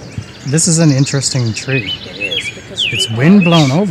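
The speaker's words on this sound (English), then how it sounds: "You can hear the birds singing too." Birds chirp and whistle outdoors on Ward's Island, Toronto, on a sunny day, their brief high calls sitting faintly beneath steady nearby conversation.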